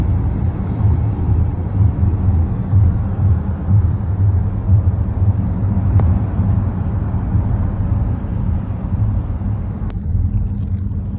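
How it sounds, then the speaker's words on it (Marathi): Steady road traffic on Sheikh Zayed Road in Dubai: a dense, continuous low rumble of many passing vehicles, loud and unbroken throughout, with no voices. "इथे ट्रॅफिक पण असतं बरं का"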